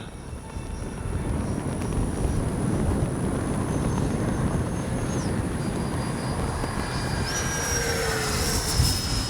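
An FMS 70mm Viper RC jet flies inverted overhead, its ducted-fan whine a steady rushing roar with rising and falling pitch sweeps, heard outdoors against a broadband wind-like wash.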